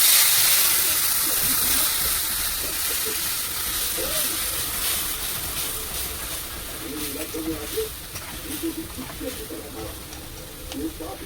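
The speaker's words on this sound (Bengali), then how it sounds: "এবার দইটা একটু বেসন দিয়ে ফেটিয়ে নিয়েছি, এটাই দিয়ে দিচ্ছি।" Whisked curd and gram flour poured into a hot pan for kadhi, a steady low sizzle and watery hiss with soft stirring scrapes and bubbling, close and continuous throughout.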